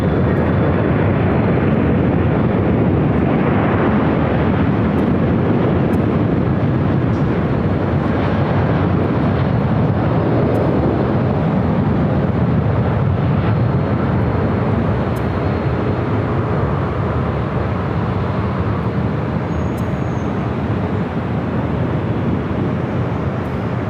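A Southwest Airlines jet at Los Angeles LAX airport roars with a loud, sustained broadband rumble, heard steadily throughout as it powers along the runway nearby.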